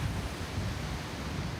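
Waves breaking against a rocky winter shoreline where mussels are gathered, a steady low roar of surf and wind with no clear individual crashes, fairly close and unbroken.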